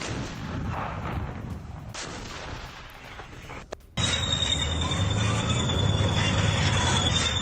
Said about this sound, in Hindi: BMP-3 से यूक्रेनी पोजीशन पर लगातार हमले किए जा रहे हैं।